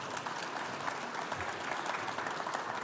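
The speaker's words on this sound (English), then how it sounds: "So how about a round of applause for..." Audience at a police summit panel applauding steadily, a dense, even wash of clapping throughout that stays moderately loud with no voices over it.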